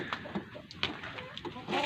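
Brahma chickens kept on a rooftop make faint, scattered clucks and short chirps over a low outdoor background.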